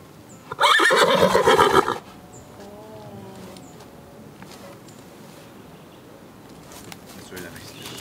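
A horse whinnies loudly and up close in a short burst near the start of the recording at a camping spot, followed by quieter rustling and faint insect-like buzzing in the background.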